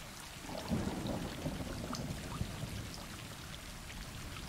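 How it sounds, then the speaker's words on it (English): Steady video game rain pours down with low rumbling underneath, a gloomy continuous downpour with scattered drops standing out, from Stray. "Lots of rain."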